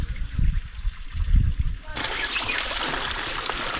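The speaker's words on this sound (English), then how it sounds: "Mini waterfall. Mini waterfall." A small waterfall by a little pond splashes and trickles steadily on a hike up Hallasan, Jeju Island, coming in suddenly after a couple of seconds of low, muffled thumps, close and fairly loud.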